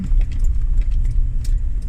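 A car pulls away with a loud, close low rumble that holds steady, with a few faint clinks above it.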